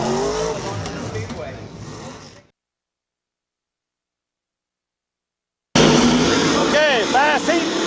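Modified stock cars race at Midvale Speedway, engines roaring loud and close with bursts of revving, broken by a few seconds of silence before the racket returns at full volume; a voice is heard over the track noise.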